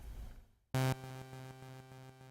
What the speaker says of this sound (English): the spread dial, which allows you to make the entire delay in mono when at 0 value like this